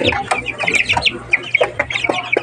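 Chickens in a coop cluck and chatter close by, a busy run of short overlapping clucks and squawks with no voices.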